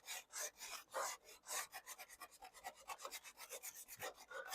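Sandpaper or an abrasive pad scuffs an aluminum surface before epoxy, a close series of quick, rhythmic rasping strokes that speed up toward the end, with no talk.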